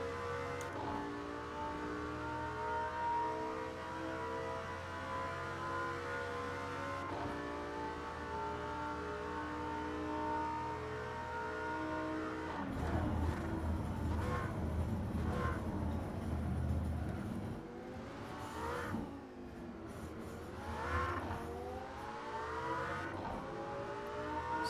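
A Lamborghini Sesto Elemento on the Monza circuit revs hard through the gears, its engine pitch climbing steadily, then cutting sharply and rising and falling again through a turn, loud and close, with no talking.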